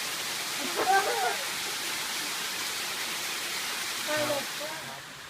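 Khao Ang waterfall in Ban Bueng, Chonburi, pours as a steady, broad rushing hiss of falling water, with faint voices briefly audible in the background.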